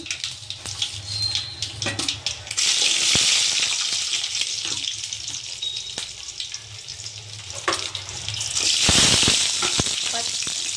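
Urad dal, chana dal, mustard seeds and cumin sizzle and crackle in hot oil for a tempering, a steady close frying hiss with stirring clatter, no voices.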